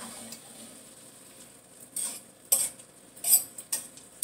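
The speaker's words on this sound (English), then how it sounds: "And I'm going to stir" Chicken breast and vegetables are stirred in a pan, giving a faint background hiss broken by several sharp clinks and scrapes of a utensil against the pan, spaced irregularly over a few seconds.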